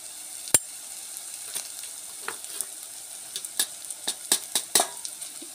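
Ginger garlic paste and masala sizzle in oil in a pan for a bitter gourd curry, a low crackling hiss broken by sharp spoon taps and scrapes that grow more frequent toward the end, no talking.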